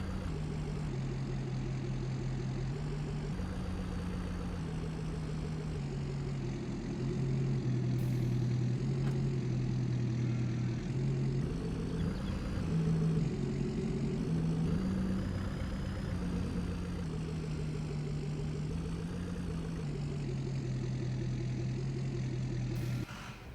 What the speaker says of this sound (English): Oh, that's a tractor running.